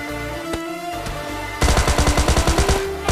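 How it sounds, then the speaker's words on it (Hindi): Gunfire from an enemy player in PUBG Lite, a quiet moment with a single sharp shot, then a loud rapid burst of automatic fire close by. "मेरे को एक बंदा दिखता है जो कि मेरे पर फायर कर रहा था"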